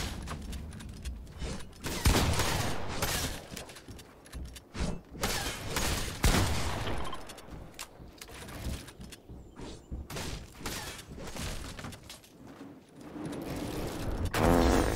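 Bursts of rapid gunfire from a video game, loud cracking volleys separated by short gaps, with clanking mechanical sounds between them.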